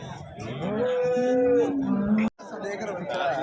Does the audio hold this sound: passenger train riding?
no